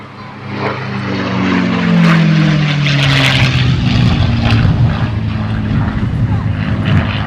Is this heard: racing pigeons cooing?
no